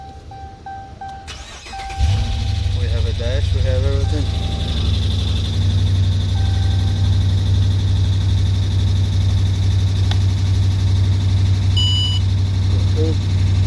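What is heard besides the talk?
2018 Dodge Charger engine starting and idling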